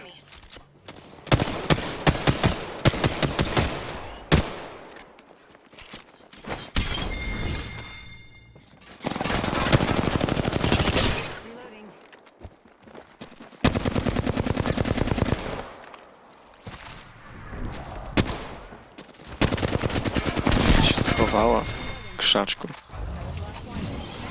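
Gunfire in the video game Apex Legends, played on PS4: several bursts of rapid automatic shots, each a few seconds long and separated by short pauses, loud and close.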